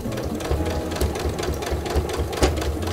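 A sewing machine stitches hemp canvas for a pencil case, running steadily with a fast, even mechanical chatter and a faint rhythmic thump about every half second, close and alone.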